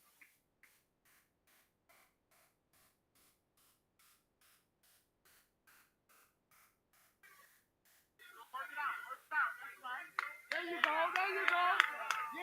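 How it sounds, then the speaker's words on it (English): Faint, evenly spaced claps tick along at a live Harlem Day street performance, then a louder burst of crowd clapping and shouting voices swells up near the end. "Yes, give them a round of applause."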